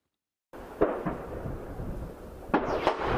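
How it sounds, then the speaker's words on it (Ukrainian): Gunfire near a damaged church in the village of Pisky during wartime: after a moment of silence, two or three sharp reports echo close by over a rough, noisy outdoor background, with a second pair of sharp cracks later. "Замість передзвону постріли."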